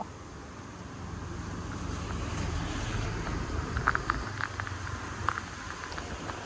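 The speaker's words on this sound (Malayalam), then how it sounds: "ഇതാണ് ചെറിയ ചെറിയ വെള്ളച്ചാട്ടം" Small roadside waterfall on the way to Chikkamagalur, a steady broadband rush of falling water mixed with wind noise, continuous and fairly close, with no talking.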